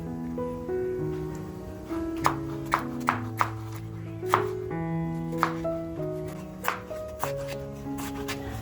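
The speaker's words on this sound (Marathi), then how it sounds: "टॅमॅटो सुद्धा आपल्याला असाच बारीक कापून घ्यायचे आहे" A knife chops finely through tomato on a board in steady, irregular taps, with several sharper knocks standing out, over a soft musical backing.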